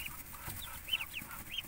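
Small chicken chick peeping alone among ducks in a duck nest, a series of thin, high chirps repeating every fraction of a second, fairly close, over quiet outdoor background.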